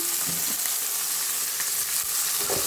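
Tempering spices sizzle in hot oil while cooking turkey berry sambar, a steady, close crackle with faint stirring clicks and no talking.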